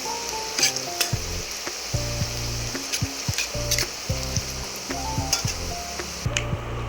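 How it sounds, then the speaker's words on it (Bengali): Nimki pieces fry in hot oil while a spatula stirs them apart, giving a constant close sizzle with repeated scraping and clinking strokes against the pan. "লাল লাল করে একটু ভেজে নিচ্ছি, ভেজে তুলে নিচ্ছি"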